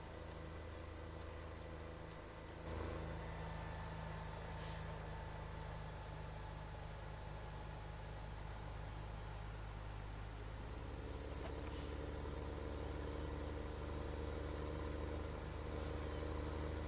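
A tractor engine in the farming video game Farming Simulator 17 drones steadily at low pitch throughout, a constant idling hum, quiet and unbroken, with no talk.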